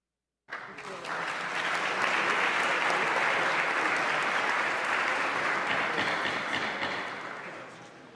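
After a bill passes in a youth House of Representatives session, the chamber's audience breaks into loud, sustained applause, a dense wash of many hands clapping together that swells quickly and holds steady for several seconds before easing slightly.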